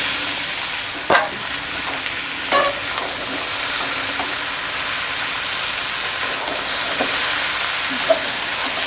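Boiled Maggi noodles frying in a pan with capsicum, giving a loud, steady sizzle and hiss throughout. A few sharp clacks of stirring cut through it, and no one speaks.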